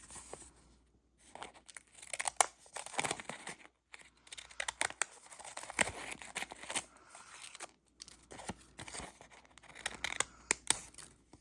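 Quick, repeated snips of scissors cutting paper, close and crisp, in uneven bursts with brief pauses between runs of cuts.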